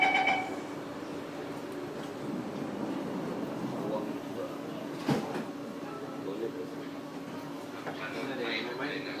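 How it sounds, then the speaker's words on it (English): Doors slide shut on an SMRT C151B metro train, a brief thud near the middle over the steady hum of the carriage, with a recorded announcement playing over it. "Doors are closing."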